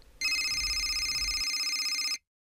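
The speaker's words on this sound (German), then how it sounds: "Das Telefon weckt den Kommissar." A telephone rings early in the morning, one continuous electronic trill lasting about two seconds and then cutting off into silence, close and clear with nothing else heard.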